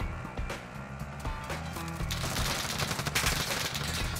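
Gunfire in the Warzone video game, rapid bursts of automatic shots that grow denser and louder toward the end, layered over game noise.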